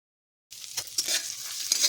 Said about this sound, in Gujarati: તો આદુ, મરચાં, લસણને આપણે અહીંયા ફ્રાય કરી લેવાનું છે પહેલા.